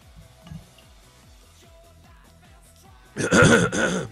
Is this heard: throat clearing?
yes